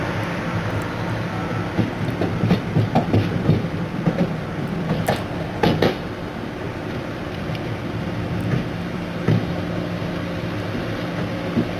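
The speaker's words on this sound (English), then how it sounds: "This is the last car on the train, looking east as we go under Queens Plaza." An Amtrak train runs in the tunnel under Queens Plaza, heard from the last car as a continuous rumbling roar with rattling and a few sharp metallic clanks and squeals.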